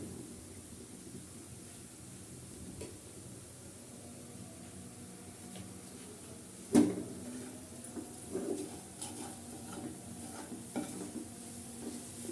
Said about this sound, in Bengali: লবণ দিয়ে একটু নাড়াচাড়া করে রাখবো